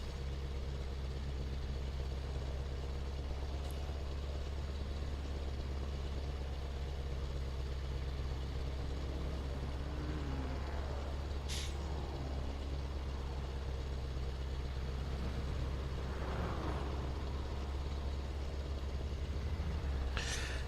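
Modded AI traffic trucks in Euro Truck Simulator 2 rumble past on the road, a steady low engine drone throughout with occasional brief hisses like air brakes, fairly faint and continuous with no talking.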